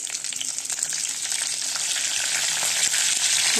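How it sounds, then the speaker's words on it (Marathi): Cumin, mustard seeds and curry leaves fry in hot oil, giving a dense, constant bright hiss with faint crackles and pops throughout, up close and without any voices. "जिरी मोहरी टाकली कढीपत्ता टाकले"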